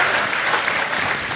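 An audience claps in steady, dense applause filling the whole moment at moderate loudness, with no voices standing out.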